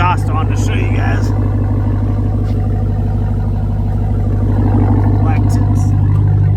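A TRX ATV engine idles with a low, steady rumble through an aftermarket exhaust with black tips and a Rip-A-Tuned intake, loud and close, while someone talks over it throughout.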